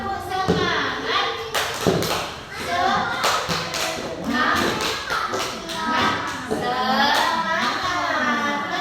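Young children in a playgroup classroom do a spirit clap, a patterned burst of quick claps and slaps, with kids' voices chattering over and between the rhythm.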